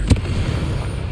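A single explosive burst from a Confringo fire spell in Hogwarts Legacy, one sharp close boom that fades into a rumbling tail.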